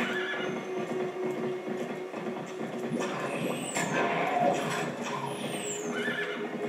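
A horse neighs and whinnies while hooves clip-clop steadily in a video game, with layered ambient game sounds around it and no talking.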